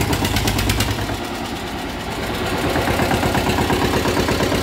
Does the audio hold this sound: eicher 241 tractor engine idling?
yes